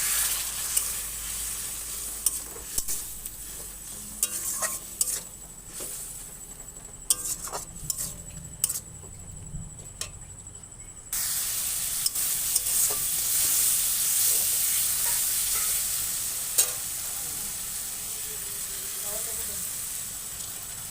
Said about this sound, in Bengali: এবার আমার মাছের ঝালটা ফুটে এসছে।